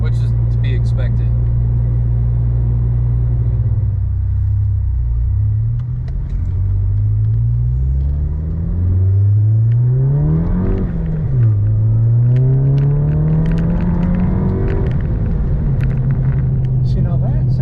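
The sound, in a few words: car exhaust, Stealth dual muffler turbo-back exhaust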